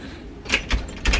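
A cruise ship cabin door on the Carnival Elation bumps shut and its lock clicks, with a few brief knocks and rattles close by over a quiet room.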